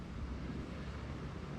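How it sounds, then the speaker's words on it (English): Strong wind roars across the microphone outdoors in Florida ahead of incoming storms, a dense, continuous low rumble with no pauses. "Boy, is it windy today, guys."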